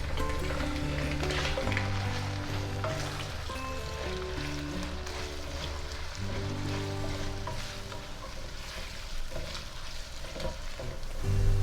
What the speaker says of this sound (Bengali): আমি মুরগি ভাজা তেলের মধ্যেই একটা পেঁয়াজ স্লাইস করে রেখেছিলাম, সেটা দিয়ে দিচ্ছি।